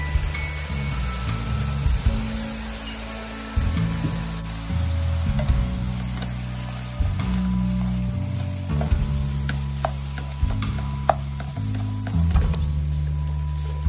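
Raw sticky rice is stir-fried in a pan after a few teaspoons of water are added: repeated scraping strokes over a steady sizzle, with a low tonal hum running underneath.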